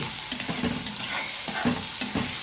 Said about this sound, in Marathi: कांदा ज्यावेळेस छान भाजतंय ना त्याच वेळेस त्याला चव येते